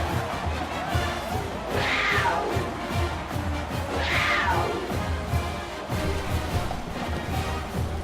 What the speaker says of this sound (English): Texas State extends their lead here at home, and the crowd is going crazy